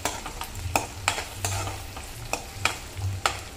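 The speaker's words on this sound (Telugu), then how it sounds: "పచ్చిమిర్చి కూడా మంచిగా ఫ్రై అయ్యేదాకా వేపు చేయాలి" Onions and green chillies fry in hot oil for a potato fry while a spoon stirs them in quick, irregular strokes that scrape and clatter over a constant sizzle.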